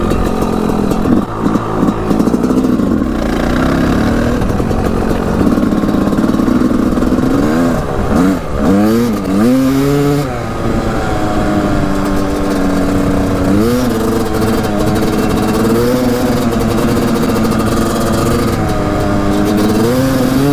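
A Kawasaki KX250 dirt bike engine revs loud and close throughout a ride, pitch rising and falling through repeated throttle blips and gear changes over a steady motor drone.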